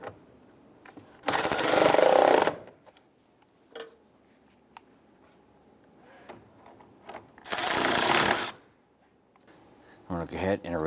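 Bolts on a fan shroud of a 2002-2008 Dodge Ram 1500 being snugged down with a power tool, two bursts of loud buzzing with clicks and clanks between them and a rattling impact at the end.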